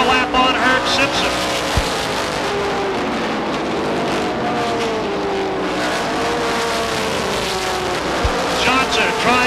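Stock cars racing in an ACT Coors Tour event at Beech Ridge Motor Speedway in 1989, a loud continuous roar of several engines rising and falling in pitch as they pass, with a commentator talking over it.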